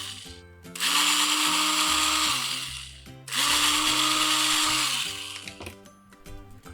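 A 2.5 mm drill bit boring a hole through a metal suspension link part for a WPL C-series RC truck. Two sustained, close, high-pitched whirring bursts of a couple of seconds each, with quieter handling noise between them.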